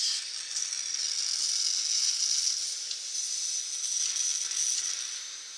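A gas canister is screwed onto a camping stove, producing a steady, close hiss for several seconds with faint ratcheting clicks running through it and no talking.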